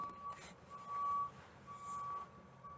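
A truck reverses behind a Walmart, its backup alarm giving steady repeated beeps at a distance, faint under quiet background noise.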